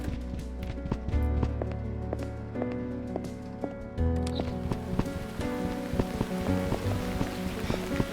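Rain falls steadily in the video game Burnhouse Lane, a continuous mid-level patter beneath layered music tones and scattered sharp sounds.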